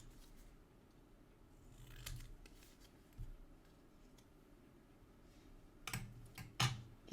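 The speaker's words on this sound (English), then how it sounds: "we're gonna cut it down just a little" Scissors cutting paper for a junk journal, a few soft, scattered snips and crisp clicks over quiet room tone, with the sharpest cuts clustered near the end.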